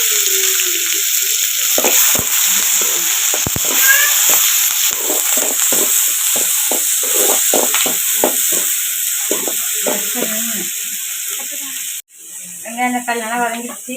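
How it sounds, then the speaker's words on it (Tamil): Fennel seeds frying in hot oil for a Tamil-style mutton curry give a steady, close hiss and sizzle, with faint stirring clicks. The sizzle cuts off near the end and a voice briefly speaks. "கொஞ்சம் எண்ணெய் நல்லா காஞ்சி சோம்பு போட்டுக்கலாம்."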